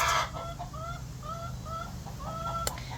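Chickens cluck and chatter in short, rising calls over a low background hum, close by and fairly busy.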